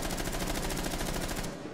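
Rapid automatic gunfire in a video game, a loud continuous burst of evenly spaced shots that cuts off abruptly near the end.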